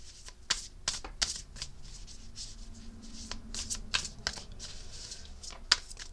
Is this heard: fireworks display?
no